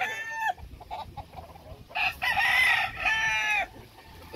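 A gamecock crows loudly nearby, first a short crow that is cut off, then a pause with faint clucks, then a long, strained, full crow.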